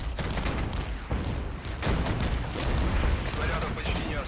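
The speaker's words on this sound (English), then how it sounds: "We have artillery and we have mortars coming in." Dense artillery and mortar fire in the video game Regiments, with rapid overlapping blasts and gunfire rolling continuously at close range and high volume.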